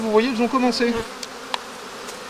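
Honeybees buzzing on a hive frame with fresh wax foundation in a strong colony, a low steady hum that stays faint under brief French speech and then carries on alone.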